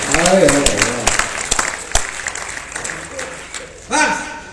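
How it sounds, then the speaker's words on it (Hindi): An audience at a Hindi comic poetry gathering breaks into clapping, a crowd's applause mixed with a voice speaking over it, loudest at the start and fading before a short final swell. "मुट्ठी भर ईमानदार लोग इतनी जोर से तालियां बजाएं"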